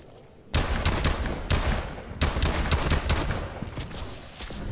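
Sustained gunfire in the Call of Duty Exo Zombies video game, a loud dense fusillade of rapid shots that starts abruptly and keeps going, heard alone without talk.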